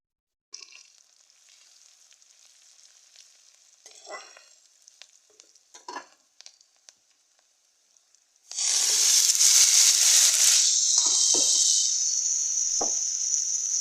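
Chopped cauliflower and potatoes drop into a hot pan with oil: after a few quiet clinks and scrapes, a loud, sudden sizzle erupts and continues as a steady, close frying hiss with occasional stirring knocks.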